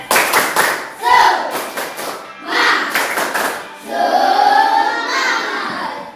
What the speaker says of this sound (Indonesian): Ya, sekarang tepuk semangat dulu sekali lagi biar tambah semangat.